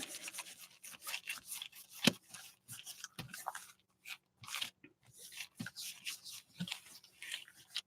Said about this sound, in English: I need to rub on this one more. I need to rub on it.